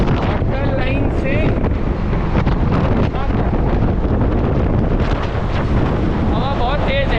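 Strong wind buffets a microphone on a ship's deck, a loud continuous roar with rushing air and water noise, and a few faint high tones come through.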